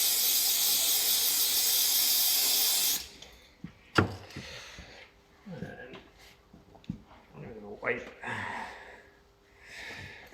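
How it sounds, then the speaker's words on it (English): Brake cleaner sprays onto the compressed fork leg of a Honda Varadero XL1000 during a fork rebuild: a loud steady hiss for about three seconds that cuts off abruptly, then a sharp knock, small handling clicks and someone talking. "So compress the fork, give it a bit of a brake clean, because I like brake clean."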